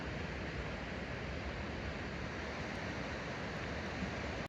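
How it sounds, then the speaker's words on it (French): A small waterfall near Franz Josef glacier in New Zealand gives a steady, dense rush of falling water that holds an even level throughout, with no voices, and stops abruptly at the end. "Et là, il y a une petite cascade aussi."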